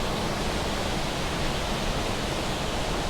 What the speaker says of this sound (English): I can actually see this flow of water in front of me with the waterfalls in the background